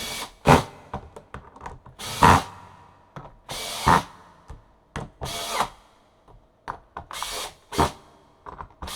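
A power drill tightens lug screws on a 1970 vintage Ludwig green sparkle drum kit at a workbench, giving about a dozen short close whirring bursts separated by brief pauses.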